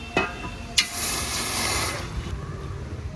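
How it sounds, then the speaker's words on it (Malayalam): Water is poured from a vessel into a cooking pot set on a lit stove, a short gushing splash that swells and then tapers off, close and clear, with no talk. "നമുക്ക് ആവശ്യത്തിനുള്ള വെള്ളം ഒഴിച്ചു കൊടുക്കാം അതിൻ്റെ അകത്ത്"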